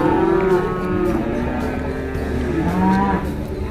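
A cow lets out a loud, drawn-out moo close by, a deep lowing call that fills the whole few seconds with slight rises and falls in pitch.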